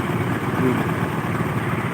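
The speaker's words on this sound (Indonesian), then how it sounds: "Ada yang motor polisi ya." A police motorcycle passes on a road toward Kuta, Lombok, its engine a steady mid-range drone that swells slightly partway through and stays continuous and fairly close throughout.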